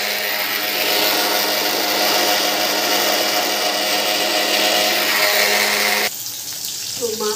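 A mixer grinder whirs loudly and steadily as it blends tomato, onion, garlic and ginger with a little water into a spice paste, then cuts off near the end and leaves a quieter rattling sound.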